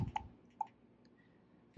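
Keys pressed on a TCL Flip 2 flip-phone keypad while typing a text message, a few faint, quick plastic clicks in a quiet room.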